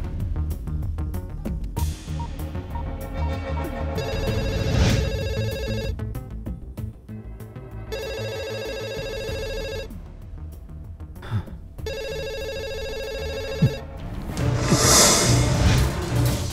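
A telephone rings in repeated bursts with short gaps between them, set against steady background music in a dubbed action-film scene.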